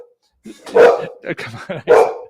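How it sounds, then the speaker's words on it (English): A friendly pet dog barks indoors in a few loud, close bursts with short gaps between them. "he's a very friendly dog"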